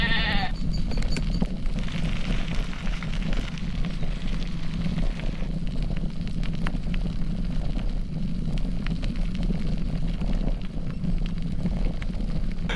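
Sheep bleating out in the Peak District dales near the Tissington Trail and Dovedale, a few distant calls heard early over constant wind rumble and outdoor background noise.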